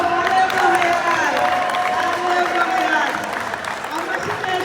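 Audience applause and crowd noise at a sports award ceremony for Rwandan community games in Montreal, Canada. The sound is a steady, fairly loud wash of clapping, with voices talking over it throughout.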